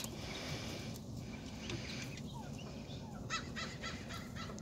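Faint, distant crows caw outdoors a few times against a steady background hiss, the calls sparse and soft rather than close or loud.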